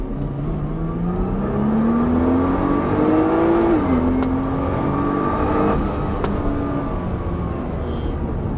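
A car accelerates hard on a race circuit, its engine note climbing steadily, dipping briefly at a gear change, then pulling again under steady wind and road noise, with no talk.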